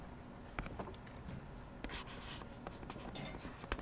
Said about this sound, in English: Okay, so I'm going to write down,